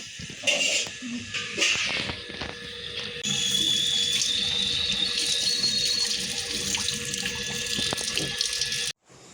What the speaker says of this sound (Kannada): ನೀರು ಬಂದಿದ್ದು ಸ್ನೇಹಿತರೆ